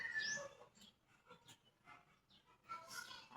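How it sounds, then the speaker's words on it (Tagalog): A hungry dog whimpering in short, soft, high-pitched whines and yips, close but faint, with a few scattered noises between cries. "Si aso guys, nagugutom."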